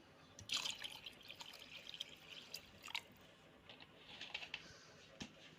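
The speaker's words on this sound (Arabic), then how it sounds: "هزود له كمان شويه ميه" Water poured into a pot of rice on the stove for Egyptian-style fluffy white rice, heard as faint, scattered trickling and dripping splashes in a quiet kitchen.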